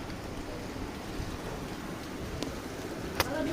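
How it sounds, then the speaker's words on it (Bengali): Rain falling on a tin roof makes a steady, even patter throughout, with a couple of sharper drop hits near the end and no voices. "বৃষ্টি পড়তেছে, এই যে দেখেন আওয়াজটা শুনতেছেন।"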